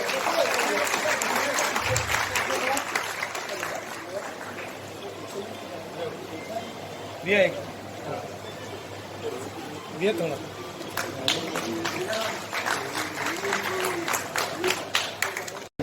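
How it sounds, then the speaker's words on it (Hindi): Applause for a young girl at the closing of a painting exhibition, clapping that swells and thins across the stretch with a voice speaking over parts of it and a hum underneath. "जोरदार तालियां बजनी चाहिए इस बच्ची के लिए।"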